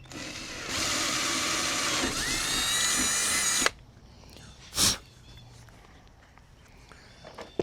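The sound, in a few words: drilling kayak with a 1/4 inch drill bit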